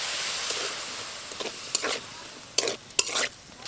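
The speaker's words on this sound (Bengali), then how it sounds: "আলু বেগুনগুলো খুব ভালোভাবে মশলার সাথে নেড়ে নিয়েছে" A spoon scrapes and stirs potatoes and eggplant with turmeric, cumin and a little water in a frying pan, giving soft intermittent strokes over a faint steady sizzle, with sharper scrapes near the end.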